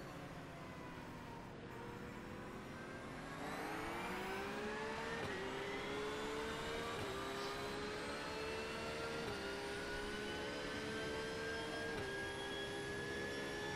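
Race car engine in the iRacing simulator, a loud sustained whine that climbs in pitch through repeated upshifts, each gear change dropping the tone briefly before it rises again.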